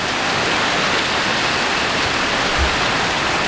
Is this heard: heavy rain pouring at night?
yes